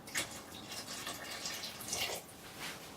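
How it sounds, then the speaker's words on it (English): Beef broth poured into an Instant Pot of meatballs in tomato sauce, a soft, steady liquid splashing with a few brighter drips, quiet and close. "And we'll pour the rest of the beef broth."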